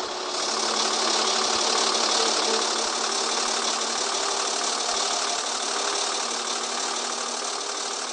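Truck engine in the game Truck Simulator Europe, a steady loud hum that drones on evenly from start to end with no talking.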